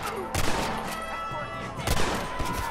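Gunfire in Red Dead Redemption: two sharp, loud shots about a second and a half apart, each ringing out over a steady, busy game background, close and punchy.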